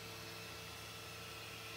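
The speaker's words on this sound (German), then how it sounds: "Tisch fährt jetzt runter" The bed of a Tronxy X5SA 3D printer lowers under its stepper motor, producing a faint, steady electric whine with a low hum beneath, unbroken and without speech.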